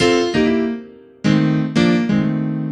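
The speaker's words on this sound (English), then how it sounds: "Now the right hand is going to sound like this." A blues piano right hand plays a short riff, a handful of struck chords and notes ringing out and decaying between attacks, close and clear with no talking.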